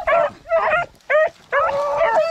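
Hunting dogs barking and yipping while chasing rabbits on a cold, icy day, giving four loud, close bursts of high-pitched baying in an uneven rhythm with short gaps between them.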